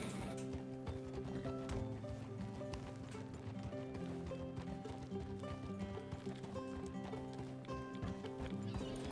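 Hoof clip-clop from a horse in a Western ranch roleplay video game, steady rhythmic steps under dense game music and ambience, continuous throughout.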